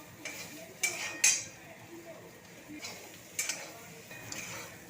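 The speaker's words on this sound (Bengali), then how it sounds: "এখন হিঁচড় আর আলুটাকে ভালো করে একটু ভেজে নেব।" Jackfruit and potato frying in a kadai, with a low background sizzle and a few sharp metallic scrapes and clinks of a spatula against the pan, spaced irregularly.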